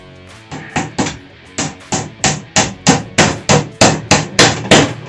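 Hammer blows on small nails into the wooden back panel of a Mainstays open-shelf nightstand ring out close and sharp, about a dozen evenly spaced strikes in a quick, steady rhythm.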